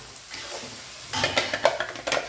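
Masala paste with a pinch of turmeric gets stirred into hot oil for tomato kuzhambu, a soft scraping with a faint sizzle at first, then louder clattering strokes of the spoon against the pan.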